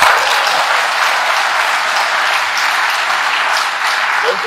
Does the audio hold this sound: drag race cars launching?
no